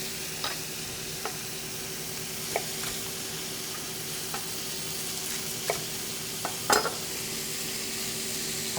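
Steak pan-frying in a hot pan, giving a steady soft sizzle with occasional faint pops and light ticks, fairly quiet and heard without any talk.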